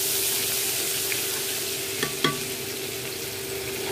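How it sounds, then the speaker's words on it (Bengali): Two tablespoons of chopped onion hit hot oil in a pan, giving a steady, gentle sizzle with a couple of quick utensil clicks midway and no talking. "এখন এই তেলে দিয়ে দিচ্ছি 2 টেবিল চামচ পরিমাণ পেঁয়াজ কুচি"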